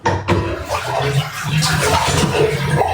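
Water runs steadily from a tap at home, a continuous close splashing rush that starts abruptly after a brief knock and carries on for a few seconds with no one speaking.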